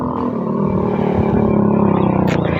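A motorcycle ridden along a muddy road in rainy weather, its engine a loud, close, steady drone with a slight rise in revs over almost three seconds.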